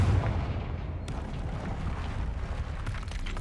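A Confringo fire spell explodes in the video game Hogwarts Legacy, a deep booming blast with heavy low rumble that decays over a few seconds.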